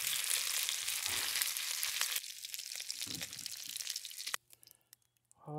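Thin beef slices frying in oil in a pan for a chop suey stir fry, a loud steady close sizzle with some stirring scrapes that suddenly drops to near silence near the end.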